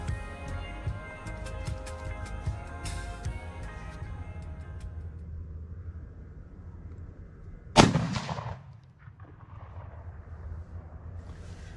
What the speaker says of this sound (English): Got one more in the chamber. I'm gonna shoot it and then go down there and see exactly where I'm hitting.